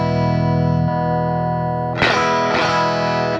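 Electric guitar through a Power Burst boost pedal on its mid-range setting, boost at zero: a sustained distorted chord, then two sharp re-strums near the end, mid-heavy with trimmed highs and lows, alone.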